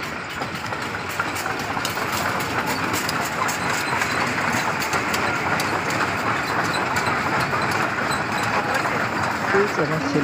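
A departing train rumbles with steady rail and engine noise, a continuous broadband roar with faint clicking, heard from onboard at moderate level.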